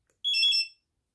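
Zebra CS6080 Bluetooth barcode scanner giving a single short, bright electronic beep after reading a pairing barcode, clear and alone in a quiet room.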